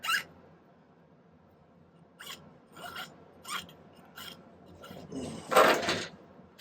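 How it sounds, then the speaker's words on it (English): A hand file rasps across small silver bat pendant pieces in a silversmithing workshop. There are several separate short scraping strokes, close and fairly quiet, ending with a louder, longer burst of filing. "I'm going to file these and Dremel these until they're in that shape."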